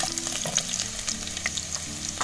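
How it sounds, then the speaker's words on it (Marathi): Garlic frying in a pot over a wood-fired clay stove, a steady low sizzle with occasional stirring scrapes throughout. "लसूण टाकूया, चांगले असे लाल करून घेऊया आपण आता."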